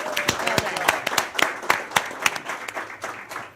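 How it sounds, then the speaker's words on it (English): Applause at a county board of education meeting, a room full of people clapping steadily with sharp individual claps standing out, fairly close and sustained for a few seconds. "give him a round of applause"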